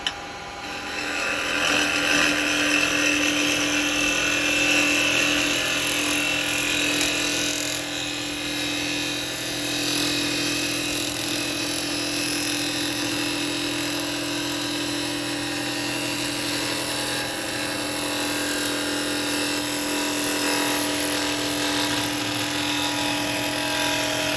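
Wood lathe turning a live edge laburnum bowl with a gouge, with a continuous whirring hum and a close, steady scraping hiss of the cut throughout.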